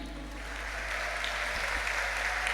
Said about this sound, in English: Please give applause to them.